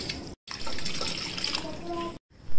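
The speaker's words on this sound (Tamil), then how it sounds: "இப்போ இதை நல்லா வடி கட்டி எடுத்துக்கலாம்." Boiled nannari root water pours through a strainer, a steady close splash of liquid with a faint trickle lasting about two seconds between brief pauses.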